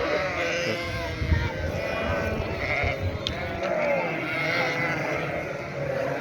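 Several sheep bleat over and over, their calls overlapping at close range above a steady low background rumble.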